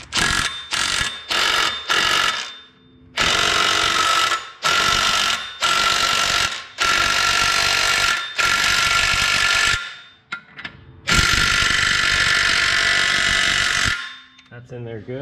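Impact gun torquing down the primary clutch on a Polaris RZR Turbo, loud close bursts of rapid rattling hammering, first short rapid hits and then longer sustained runs separated by brief pauses.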